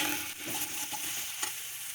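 Okra (ladies finger) sautéing in a little oil in a pan, with a soft, steady sizzle and intermittent light scrapes and clinks of a spoon stirring, close and fairly quiet, no voices.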